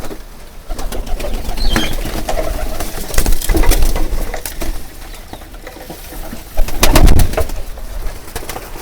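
Native pigeons cooing in their loft while being fed grain at midday; repeated low coos and wing flutters sound close and fairly loud, with a sharp burst of flapping near the end.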